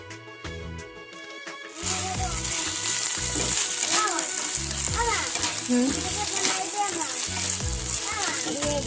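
Pounded rice fries in ghee with a steady, loud sizzle and crackle, jumping in after a quieter opening and continuing with stirring scrapes and splatters close by.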